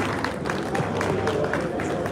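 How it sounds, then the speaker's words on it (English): An audience at a Rotary Club fundraising dinner dance claps in a scattered, uneven burst of applause mixed with crowd murmur and speech, moderately loud and sustained. "Please clap for them."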